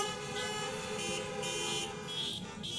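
A church audience imitates car horn honks with their voices, a dense chorus of nasal toots held together across the whole stretch at steady loudness, with no clear speech.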